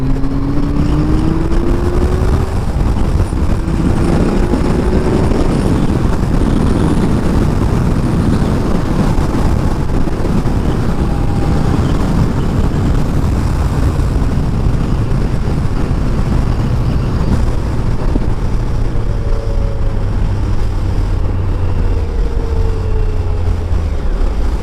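A Kawasaki ZZR1400 being ridden on a cold, bright day gives a loud, steady engine drone under heavy wind rush, with gradual rising and falling pitch as it changes speed, continuous throughout.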